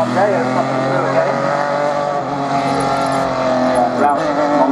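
Rover touring car burbles past near at hand, a steady, rich engine drone lasting the whole few seconds, with a commentator speaking over it.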